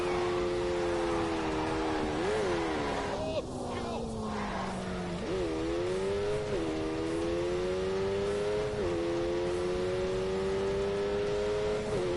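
Lamborghini engine in The Grand Tour racing game revving hard for a burnout, a loud steady drone rising and falling in pitch with several throttle surges, with someone speaking over it.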